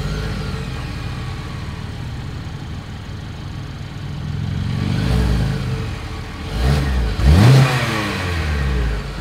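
The exhaust of a 2022 Kia Sportage idles with a low, steady rumble, then swells through two quick revs midway, the second louder, before settling back to idle, heard close with no talking.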